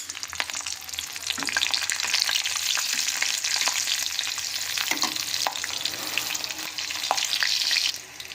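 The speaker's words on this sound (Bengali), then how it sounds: "এতে আমরা দিয়ে দিলাম প্রথমে কালো জিরে, আর তারপরে দিয়ে দিলাম কাঁচা লঙ্কা কিছুটা" Black cumin and green chillies fry in hot mustard oil in a kadai, giving a steady close-up sizzle with occasional stirring clicks throughout, and no talk.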